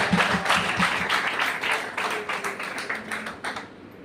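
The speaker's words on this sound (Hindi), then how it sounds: "इस प्रोजेक्ट के लिए जोरदार तालियां।" Crowd applause for a road development project near Nagpur, a burst of many hands clapping that starts strong and gradually thins and fades toward the end, with a faint voice underneath.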